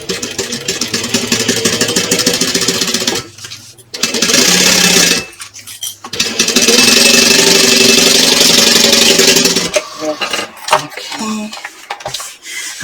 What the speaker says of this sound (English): Now I'm going to sew across here using a 3/8 inch seam allowance.